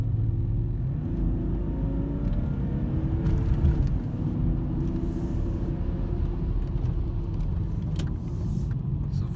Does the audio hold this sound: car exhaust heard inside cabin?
yes